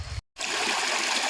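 Rushing water of a waterfall-fed mountain stream among rocks, a steady broadband roar close by after a brief moment of silence.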